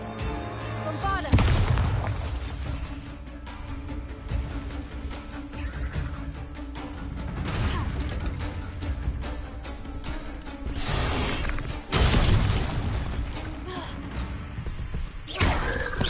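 Bombarda spell blasts from Hogwarts Legacy on PS5, several loud booming explosions at around 1, 7, 12 and 15 seconds over dense game sound, with someone talking in Cantonese through parts of it.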